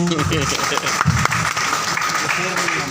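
An audience at an IMC recognition and award seminar in Bathinda claps, a dense, loud burst of applause with voices talking over it.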